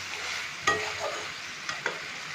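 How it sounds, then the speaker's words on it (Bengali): Chicken kosha is stir-fried in a pan under a continuous frying sizzle, with three sharp spatula knocks against the metal and no speech. "ভালো করে কষে নিচ্ছি"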